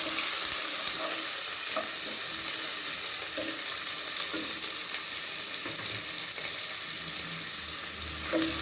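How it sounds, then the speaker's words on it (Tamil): Onions frying in oil with bay leaf, cinnamon, cloves, cardamom and fennel for a chicken kuzhambu, a steady close sizzle with occasional stirring scrapes throughout, no talk. "வெங்காயம் நல்லா வதங்கணும்."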